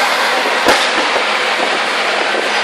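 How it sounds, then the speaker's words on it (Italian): Firecrackers bursting across Mumbai during Diwali celebrations, a dense, continuous roar of crackling with a few sharper nearby bangs standing out. "petardi da tutte le parti e città illuminata"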